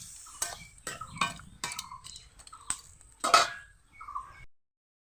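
A lid goes onto a cooking pot of spinach and potato vegetables, with a run of close metallic clinks and knocks and one louder clatter before everything falls silent.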